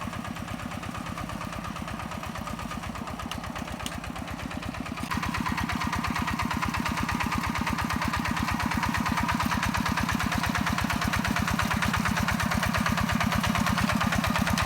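A Yanmar 11.5 hp walking tractor's small diesel engine chugs steadily and close by while harrowing a rice paddy, its rapid thumping rhythm continuous throughout, growing slightly louder partway through.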